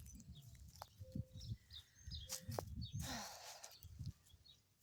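Birds chirping and singing along a morning trail after a tornado, with scattered short calls and a few tonal whistles over low rumbling background noise.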